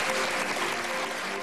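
An audience claps steadily after a speech on animal rights, a dense, even wash of applause held at one level for the whole short stretch.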